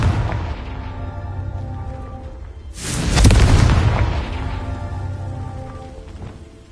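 The Confringo blasting spell in Hogwarts Legacy goes off as a loud, close explosion with a deep boom that swells and slowly fades into a rumbling tail over a rain-like background hiss.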